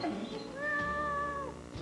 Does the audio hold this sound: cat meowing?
yes